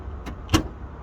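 A ProMaster van's hood latch lets go when a remote release cable is pulled, giving one short, close-up clunk with a faint earlier tick and a quiet background.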